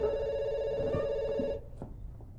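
A telephone rings steadily and loudly for about a second and a half, then stops abruptly, leaving quiet room tone with a few faint knocks.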